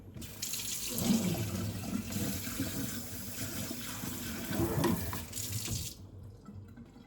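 Tap water runs steadily into a kitchen sink as something is rinsed off, a constant close splashing hiss with slight surges, cutting off near the end.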